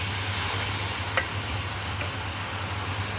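Syrup poured into halva and stirred in a pan, a steady soft sizzle and scraping stir with a low hum, one brief tap partway through, near and moderately loud with no talk.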